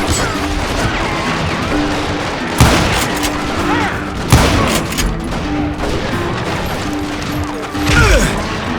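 Gunfire in the Western video game Call of Juarez Gunslinger, a dense stretch of loud shots and crashing impacts over a busy battle din, with a few sharper blasts standing out.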